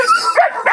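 A small white dog at an animal shelter gives a few close, loud yips and high barks in quick succession, sounding anxious and whiny.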